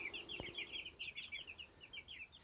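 Marans-type chickens, partridge hens and roosters, cluck in a busy, steady chatter of short repeated calls with a brief thump partway through.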